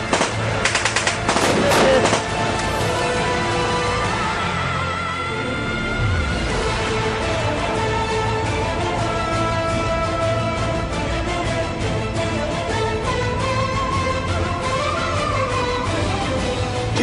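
Gunfire fired from behind that kills two terrorists in a drama, sounding as a dense rattle of machine-gun bursts over a continuous loud music bed.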